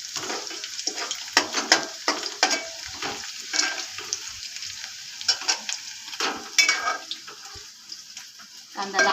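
Onion, cumin and garlic fry in a pan, making a soft sizzle broken by sharp stirring clatters and scrapes against the metal at an irregular pace.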